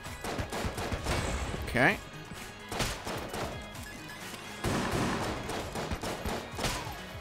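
Rapid tapped gunfire from the twin-stick shooter Enter the Gungeon crackles in bursts throughout, running under steady talk from a player.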